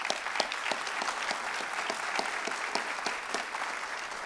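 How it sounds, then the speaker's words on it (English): Audience applause at a high school senior honors night, a steady dense wash of clapping hands filling the room throughout, loud and continuous with no voices on top. "Let's give them one more round of applause"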